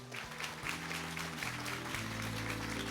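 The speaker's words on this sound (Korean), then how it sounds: "뜨거운 박수로 맞이해 주시죠." Steady audience applause at a groundbreaking ceremony for a pharmaceutical research cluster on a rainy day, a continuous dense patter of many hands with sustained background music tones running underneath.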